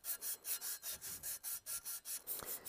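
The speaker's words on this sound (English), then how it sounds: "I'm not actually sanding the metal here, I'm just taking off all of the old sealant." Emery cloth rubbed back and forth over a metal part of a DRZ400SM starter motor to strip old sealant, a steady rhythmic scraping of about a dozen even strokes, close and fairly quiet.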